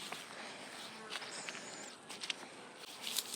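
Honey bees buzz around a wooden hive box outdoors, a steady close insect drone with a few brief, louder passes as individual bees fly near.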